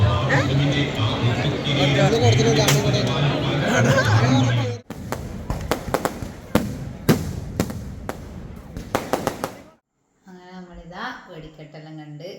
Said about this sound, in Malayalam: വെടിക്കെട്ട് കേൾക്കുമ്പോഴേക്കന്നെ ആകെ പിന്നെ ഞാൻ രണ്ട് ചെവിയും പൊത്തിയിട്ടാണ് കുറച്ചേരം നിന്നിനി